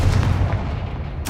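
Confringo fire spell blast in the Hogwarts Legacy video game: a loud, close, booming burst with a rolling rumble, then a second sharp hit at the very end.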